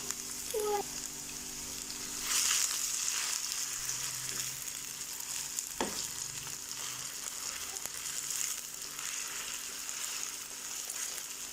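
Diced onions and cubed potatoes sizzle steadily in a pan for an Afghani potato and egg omelette, a continuous close frying hiss with a few faint clinks and no talk.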